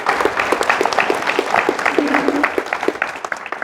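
A church congregation claps steadily during a sermon, a dense patter of hands filling the room, with a voice calling out briefly over the applause.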